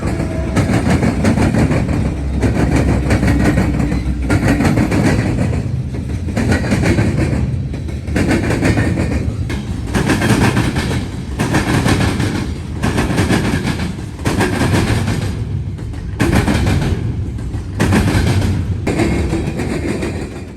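M331, a long freight train on the Indy line pulled by mixed CSX, Norfolk Southern and Union Pacific locomotives, rumbles past close by, its wheels clicking rhythmically over rail joints in a steady repeating pattern, loud and without speech.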